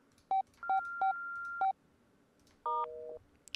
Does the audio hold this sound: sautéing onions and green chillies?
no